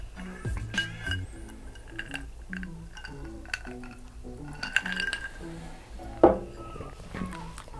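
A whiskey glass holding four standard fridge ice cubes gives off a few light, scattered clinks over a quiet room, with one sharper knock near the end.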